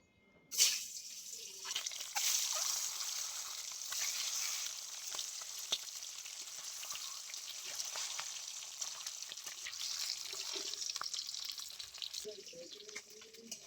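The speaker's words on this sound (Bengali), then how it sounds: "তো এবারে আমি ডিমগুলো ভেজে নেব।" Boiled eggs fry in hot oil in a pan, giving a continuous bright crackling sizzle that starts with a sharp burst as they go in and then holds steady, close but fairly quiet.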